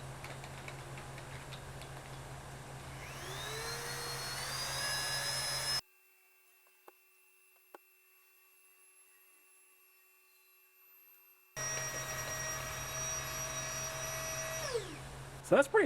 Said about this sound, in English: if we want to start the pump, all we got to do is press this orange button right here